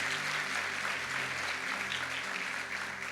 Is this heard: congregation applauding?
yes